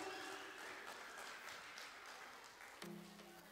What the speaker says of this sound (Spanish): Fuerte el aplauso, muchachos, para